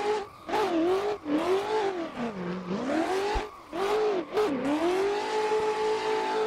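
Revving engine of a BMW M4 widebody comp drift car in a driving game, wailing up and down through repeated throttle blips and sustained high revs, loud and close, with no talking.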